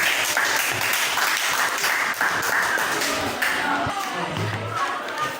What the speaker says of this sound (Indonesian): Silakan kita berikan tepuk tangan